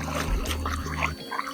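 Water washes clay off gold prospecting material at a creek in Southwest Virginia, a steady trickling pour that runs close and continuous, with no talk over it.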